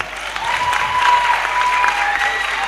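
Steady audience applause at a festival panel session, dense and sustained across the whole stretch with a faint tonal whine running through it.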